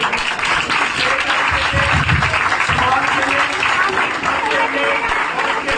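A church congregation at a youth ministry anniversary celebration claps loudly and steadily while a voice speaks over the applause.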